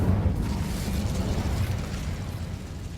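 The Bombarda blasting spell in Hogwarts Legacy goes off as one loud, close explosion, a deep booming burst that fades into a rumbling tail over a few seconds.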